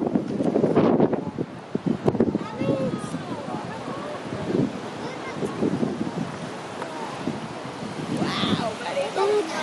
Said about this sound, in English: I know it's kind of windy, sorry about that.